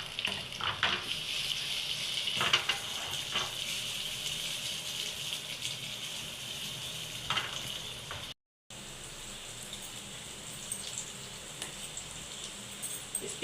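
Onions and finely chopped green chillies fry in a pan with a continuous crackling sizzle, broken by a few sharper bursts of spitting and a brief drop to silence partway through.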